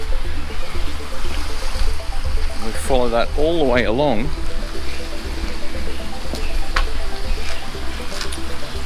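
A thin, continuous trickle of water runs in a newly built front-yard drain beside fresh concrete, while someone talks over it throughout.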